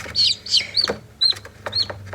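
Newly hatched chicks, three out of fifty eggs, peep in repeated short high chirps, several overlapping calls close by with a low steady hum underneath.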